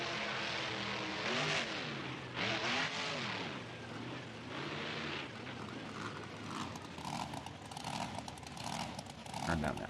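Monster truck engines roar and rev through a BeamNG.drive race, loud and continuous with rising and falling pitch sweeps as the trucks accelerate, plus a brief voice near the end.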